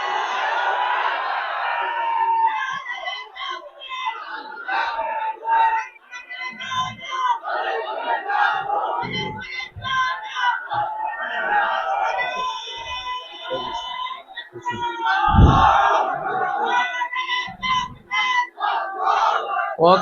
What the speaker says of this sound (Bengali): তাকবীর দিয়ে শয়তানকে তাড়ান, জোরে সোরে তাকবীর দেন।